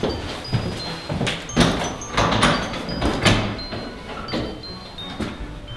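A door rattles and slides open with several heavy thuds and scraping knocks in irregular bursts, close by.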